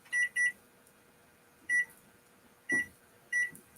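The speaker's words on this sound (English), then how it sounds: "Let's get this timer going." Kitchen timer beeping in short electronic double and single bursts, five beeps spaced irregularly over a quiet room, with a faint thump near one of them.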